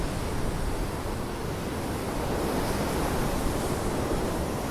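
Wind-churned sea waves break along the Blackpool coast on the Fylde, giving a continuous, dense roar of surf. The sound stays loud and close, with wind noise blending in and no talk.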